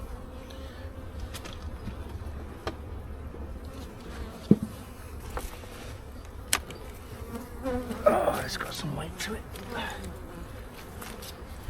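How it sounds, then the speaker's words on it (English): Bees buzz in an opened hive during an inspection, a soft, steady hum close by, with sharp knocks and clicks of the frames being handled and someone talking over it. "Okay, so I see bees down here. There's a good amount of bees here."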